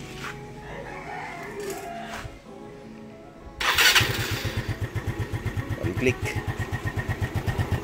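Yamaha Mio Soulty 125cc four-valve motorcycle cold-started in the morning: a brief crank catches and settles into a steady, close, loud pulsing idle, with a rooster crowing nearby in the background.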